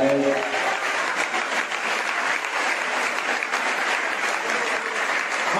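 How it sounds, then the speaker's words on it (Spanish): Loud, dense applause from a church congregation during a Pentecostal sermon, a sustained roar of many hands clapping that sounds close and full throughout, briefly blended with a fading voice at the very start. "denle un aplauso por bien fuerte a él."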